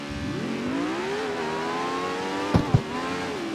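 A car engine in the CarX Street racing game revs steadily, its pitch sliding up and then holding, with two brief sharp knocks near the end and no talk over it.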